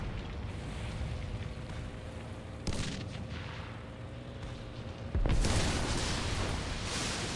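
Tank exploding in the game World War Heroes: heavy booming blasts over constant battle noise, one sharp hit near three seconds and a louder, deeper explosion near five seconds that leaves a roaring rumble.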